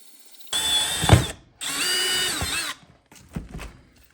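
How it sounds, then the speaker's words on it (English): Two short bursts of a power drill whirring close by, with a grinding bite into a kayak's hull, followed by a fainter brief rattle. "Okay, and just like that, hole number 2 is drilled."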